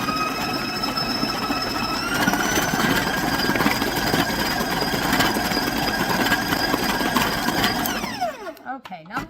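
Electric mixer beating chocolate butter frosting at a higher speed, a loud, steady whirring drone close by that runs continuously before winding down near the end.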